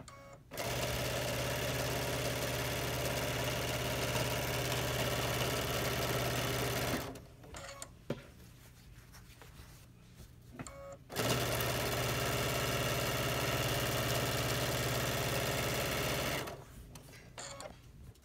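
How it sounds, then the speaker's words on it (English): A sewing machine runs a long straight stitch down the edge of a towel scarf, a steady loud whirring hum for several seconds, pausing briefly with small handling clicks, then starting again for another sustained run. "you're going to sew down this edge all the way down using the same exact straight stitch"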